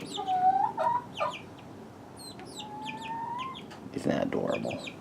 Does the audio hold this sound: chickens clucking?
yes